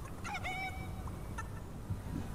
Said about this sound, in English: Come on and grab this chicken.